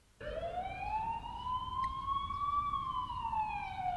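An ambulance siren in The Coma: Recut video game, one long steady wail that slowly rises and falls, loud and close with no talk over it.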